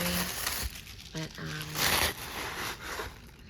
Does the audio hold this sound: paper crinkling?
yes